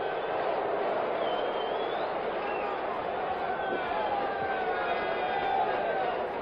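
A football stadium crowd at a Raiders–Steelers game boos, a broad, steady roar of disapproval from the stands that carries on without letup, with occasional rising whistles cutting through the mass of voices.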